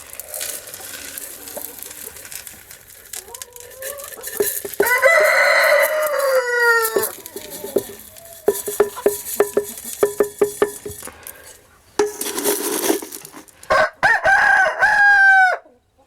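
A Buff Ameraucana rooster crows loudly and repeatedly among clucking chickens in a backyard flock, with several drawn-out crows standing out over scattered hen calls and rustling.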